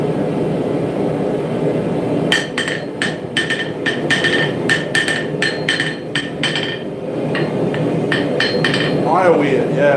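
A dog's head bladesmithing hammer strikes a dagger blank in rapid ringing metallic blows, in bursts with short pauses, heard close and loud against a background hum.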